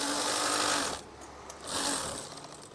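Close, fairly quiet whirring of a sewing machine stitching curtain fabric, running in two bursts separated by a short pause.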